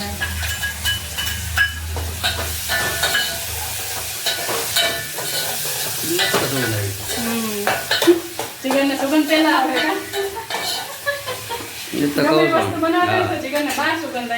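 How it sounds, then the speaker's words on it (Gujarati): Fenugreek seeds and tomatoes sizzle and crackle steadily in a hot pan while a spoon stirs, with someone talking over the frying. "વઘાર કરી નાખ્યો છે આપણે મેથીનો ટમેટા નાખી દીધા"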